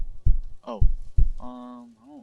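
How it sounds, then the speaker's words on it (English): Heartbeat sound effect from a horror story: three deep, evenly spaced thumps, loud and close, followed by a droning sustained tone. "why do I keep getting some random heartbeats?"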